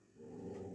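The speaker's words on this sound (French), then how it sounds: "Ça c'est les chiens qui s'affolent" Dogs agitated by firecrackers on New Year's Eve, heard as a faint, low, continuous growling whine rising briefly, distant and quiet.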